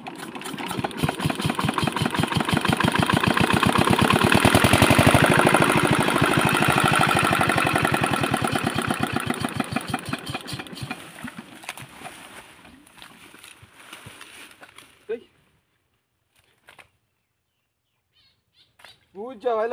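A machine engine runs with a rough, rapid chugging that swells loudly, then fades and cuts out after about fifteen seconds, followed by near silence broken by a few short sputters and voices.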